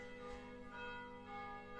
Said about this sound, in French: La bénédiction des cloches.